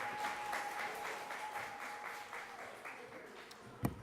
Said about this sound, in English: Can we just give a round of applause for the amazing work that JYAN is doing here in Jamaica?